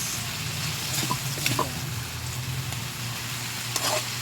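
Tomatoes caramelizing in a pan for a Filipino sarsiado dish give a steady, close sizzle with a few soft stirring clinks and scrapes scattered through it.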